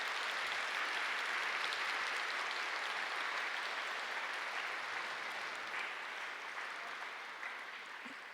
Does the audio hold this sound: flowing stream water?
no